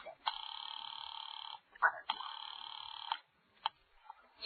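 An old-fashioned telephone bell rings in two long bursts separated by a short gap, followed by a faint click and a brief chirp, set in a quiet radio-drama scene.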